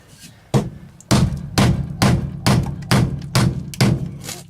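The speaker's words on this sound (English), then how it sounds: "I'm just using a wood chisel" A wood chisel is struck repeatedly into an RV floor, seven sharp, evenly spaced knocks with woody thuds, close and loud, following a couple of lighter taps.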